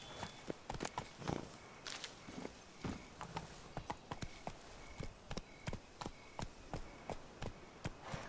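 Geralt's horse Roach galloping in the video game The Witcher 3: Blood and Wine, steady rhythmic hoofbeats drumming close by for several seconds with no talking.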